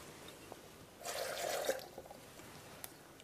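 Three-quarter cup of water poured into a blender with raw Alfredo sauce ingredients, a brief soft splash lasting under a second, faint and close, with a few small clicks around it.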